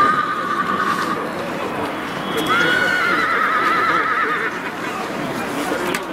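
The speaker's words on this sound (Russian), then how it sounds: "Лошади, по-моему, ржут" Horses neigh and whinny in long, shrill calls outdoors in a city street, loud and close, with steady crowd and street noise underneath.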